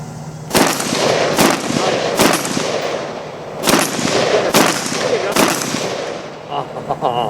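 Rapid bursts of gunfire from an IWI Tavor X95 Micro rifle, several sharp loud strings of shots spaced a second or so apart, with brief voices between volleys on an outdoor range.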